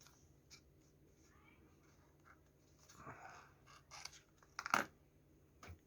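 Scissors snip through nylon thread ends on a handmade leather knife slip, a few quiet close cuts and scratches rising near the end, one sharper snip standing out.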